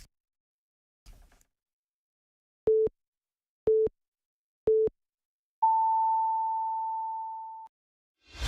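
KBS 1 Radio's 8 o'clock time signal: three short, evenly spaced pips followed by one long, higher steady tone, clean and loud with no voices.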